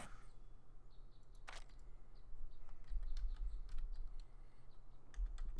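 Soft, fairly quiet typing on a computer keyboard, scattered key clicks with a few louder taps, over a low steady hum, with no talk during it.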